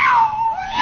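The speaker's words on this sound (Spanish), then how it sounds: "Orgía de gato" Cats caterwaul in a single drawn-out, wavering yowl less than a second long, loud and close, its pitch sliding down and then back up.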